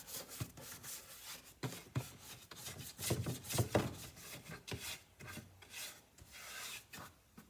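Clear wax being wiped and rubbed onto a painted wooden chest with a cloth, giving repeated soft rasping strokes in an uneven rhythm, close and moderately quiet, with no talking.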